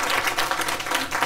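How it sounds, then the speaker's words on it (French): An audience claps in a dense, continuous round of applause, a steady crackling wash of hands at an indoor afternoon gathering with sacred ancestral singing. "Maintenant nous allons réserver un tonnerre d'applaudissements à Steve et Manounou"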